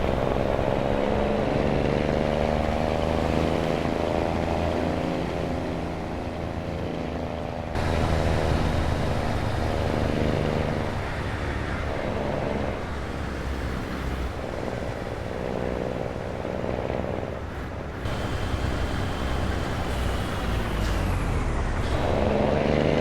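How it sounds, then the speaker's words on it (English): A Kenworth T2000 truck engine in American Truck Simulator drones loud and close with a harmonic growl, rising and falling through gear shifts and several revving surges, with no voices. "That is a nice sounding engine."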